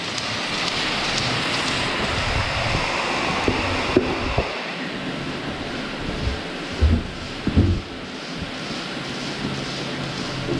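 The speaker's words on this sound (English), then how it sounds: "So that slowly starts to fill this up with water." Water rushes steadily through a valve to flush manure from the gutters of a dairy milking parlour, a continuous broadband wash with a few low thumps and no talk.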